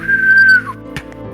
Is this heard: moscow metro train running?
no